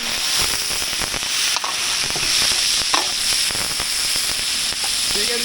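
Garlic and onion sauté in a pan for a catering job, giving a steady broadband sizzle with scattered stirring clatter and occasional sharper clicks throughout.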